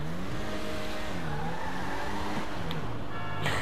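Elegy RH8 sports car in GTA 5 attempting an all-wheel-drive burnout, engine droning steadily with tire squeal and skidding rising near the end, heard close and fairly loud without talk.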